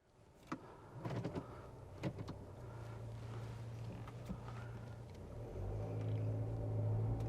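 A 2020 Nissan Kicks SR with a CVT heard from inside as the drive begins: a few clicks and thumps, then a low engine and road rumble that grows steadily louder and smoother; no one speaks.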